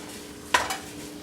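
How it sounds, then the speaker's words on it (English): Bacon browning and rendering fat in a pot, a soft background sizzle broken by one sharp utensil clink and a quieter follow-up scrape. "go ahead and brown this bacon, render out that fat"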